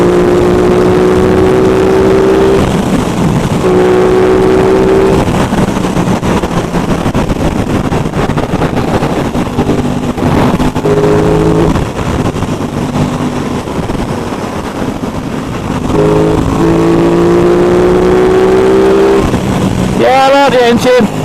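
An Aprilia RS660 motorcycle engine drones loudly and close, holding steady tones that shift in pitch between runs, with heavy wind rush and a voice talking over it.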